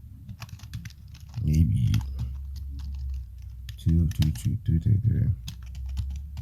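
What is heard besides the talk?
typing on a computer keyboard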